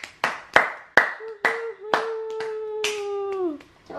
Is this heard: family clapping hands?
yes